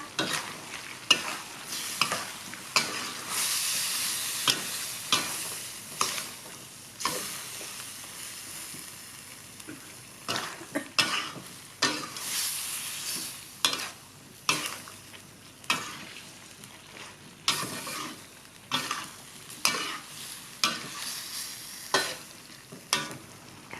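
Pork belly and long beans stir-fried in a pan, giving a loud sizzle broken by repeated scraping and tossing strokes in an uneven rhythm, with no voices.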